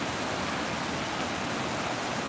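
Water rushing over rocks at a partly frozen waterfall, a loud, dense, unbroken hiss with no other sounds.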